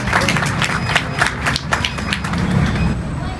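Crowd clapping at a school excellence-day event after the vice-president's speech, steady dense applause throughout with a few louder individual claps standing out.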